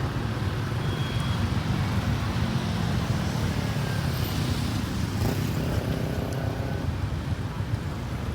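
Dense city street traffic at a police-controlled red light in Vientiane, a steady loud rumble of engines from cars and motorbikes idling and moving, with no clear talking.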